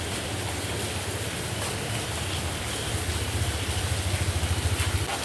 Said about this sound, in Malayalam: നല്ല വമ്പൻ മഴ.